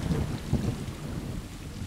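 Video game rain falls steadily over a low, rolling rumble of thunder, filling the scene with no voices.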